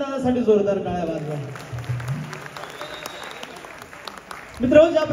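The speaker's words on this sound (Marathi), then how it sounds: "एकदा ह्या साऊंडवाल्या दादासाठी जोरदार टाळ्या वाजवा." Applause from the crowd at a Marathi folk gondhal performance during a state award event, a soft diffuse patter of clapping underneath someone speaking, swelling briefly louder near the end.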